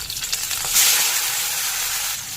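Chopped shrimp dropped into hot mustard oil with cumin seeds and a bay leaf, bursting into a loud hiss and sizzle that swells sharply and then settles into a steady crackling fry.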